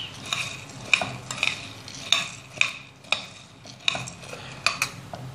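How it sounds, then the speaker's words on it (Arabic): Onions stirred quickly in a frying pan for a quick liver dish, with a metal utensil scraping and clinking against the pan in steady repeated strokes over a soft sizzle, close and fairly loud. "نقلب بقى بسرعة عشان ايه، علشان الاحمر دوت ما يتلسعش"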